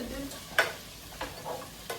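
Onions for a chicken curry frying in a pan: a steady low sizzle with a few sharp scraping stirs of a utensil, close and fairly quiet, no voices.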